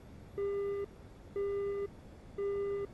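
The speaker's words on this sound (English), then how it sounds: "For the most part, what you're hearing is the RWR, or the Radar Warning Receiver." A MiG-29's radar warning receiver in the DCS World flight simulator sounds three identical sustained electronic beeps, each about half a second long and evenly spaced, loud and clear over a low background hum.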